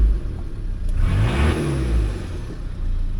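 A repaired Nissan Terrano R51 engine runs smoothly at close range, with a low steady idle and a brief rev swelling and settling back down.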